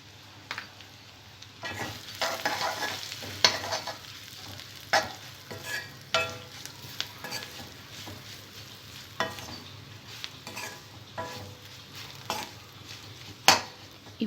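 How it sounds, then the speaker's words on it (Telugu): Ivy gourd pakodi is stirred with garlic chili powder and salt in a pan, with repeated scraping strokes and clinks of a spoon against metal over a soft, steady frying sizzle. "ఈ వెల్లుల్లిపాయ కారం మొత్తం దొండకాయ ముక్కలకు పట్టేలా బాగా కలుపుకోవాలి."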